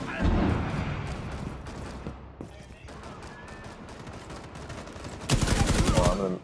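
Gunfire in Rainbow Six Siege: a loud burst of rapid shots at the start, quieter action with voices talking in the middle, then another dense, close automatic volley near the end.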